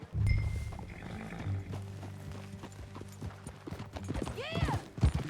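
A horse gallops in Red Dead Redemption 2, steady hoofbeats thudding close under low game music and ambience, with a rising whinny-like call near the end.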